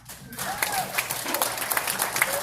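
Audience applause for Rodeo Cinema, a small independently owned art house cinema in Oklahoma City, rises at a film Q&A as a dense, steady patter of clapping through the moment, with a voice briefly heard over it.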